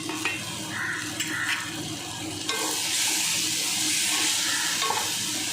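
Masala with Kashmiri chili powder and garam masala sautéing in a pot for mutton biryani, a continuous sizzle with stirring scrapes that grows louder and brighter halfway through, no speech.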